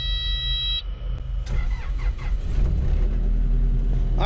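A car engine cranks over and catches, then settles into a steady idle, heard close and fairly loud with no talking.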